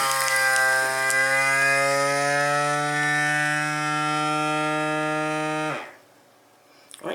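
A TKTK 7 in 1 vacuum food sealer runs its dry cycle, a steady, tonal pump hum held evenly for nearly six seconds before cutting off, leaving near silence and a small click.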